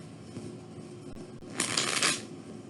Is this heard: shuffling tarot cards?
yes